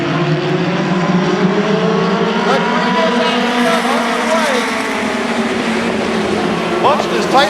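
Wolverine Outlaw Wing Midget race cars roar around a Columbus track, several engines overlapping with rising and falling pitch as they pass close by, loud and continuous, with commentary faintly mixed underneath.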